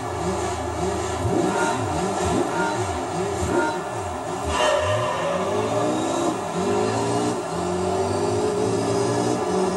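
Honda NSX Type-S Zero engine in Gran Turismo 3 revving hard, repeated rising and falling sweeps of pitch through gear changes, loud and continuous with no talk.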